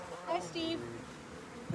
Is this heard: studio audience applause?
no